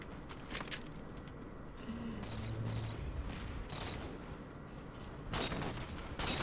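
Sniper rifle shots in Halo 4 crack out as sharp, loud bursts, one early and two more close together near the end, over a dense bed of constant game noise.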